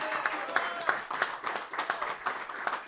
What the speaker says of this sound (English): a round of applause for Muriel, by the way, for setting all this up